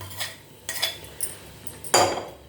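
Sautéed curry leaves are tipped from a metal pan into a shallot chutney, with a few sharp clinks and scrapes of metal ending in one louder clatter, close and alone.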